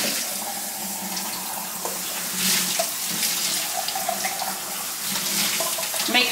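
Water runs steadily from a kitchen tap into a sink as black beans are rinsed and drained, a continuous close splashing hiss that shifts slightly as the stream hits the beans and strainer.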